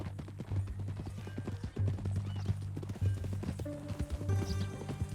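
Horse hooves clip-clop steadily at a walking pace in Red Dead Redemption 2, close and distinct over a low, constant rumble of ambient game sound and music, with an occasional whinny-like tone.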